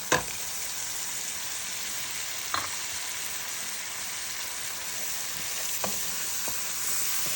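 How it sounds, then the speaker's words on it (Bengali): Chopped prawns go into a pan of cooked-down spices and sizzle with a steady, close frying hiss. A few brief stirring clatters sound through it. "মশলা কষানো হয়ে গেছে, চিংড়িটা দিয়ে দিই"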